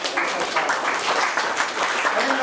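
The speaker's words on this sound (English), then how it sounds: "Everybody give a round of applause for the great night" A live audience at a reading event applauds in a dense, steady burst of clapping that fills the whole short stretch.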